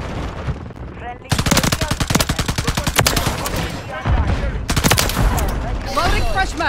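LMG TAQ Eradicator fire in Modern Warfare 3 comes as long, rapid, evenly spaced bursts of loud, close gunshots, with a short pause between strings and in-game voice callouts underneath.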